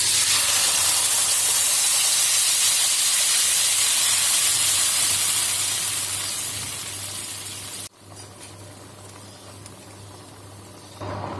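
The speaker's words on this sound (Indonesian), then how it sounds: "Panaskan minyak. Lalu kita tumis bumbu yang tadi sudah kita haluskan." Ground spice paste for terong balado with pete sizzles in hot oil, a loud, steady frying hiss that holds evenly, dips sharply once, then continues more quietly.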